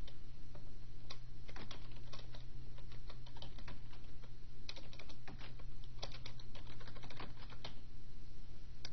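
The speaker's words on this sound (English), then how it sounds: "I could type in any information I want" Continuous typing on a computer keyboard, with rapid clicky keystrokes in bursts and brief pauses, close and clear over a low steady hum, no voices.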